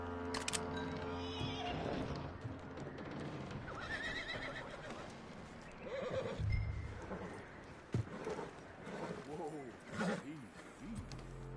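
In the Red Dead Redemption 2 video game, a horse whinnies and snorts over hoof clip-clops, faint and somewhat distant, while characters talk over a low, rumbling game soundscape.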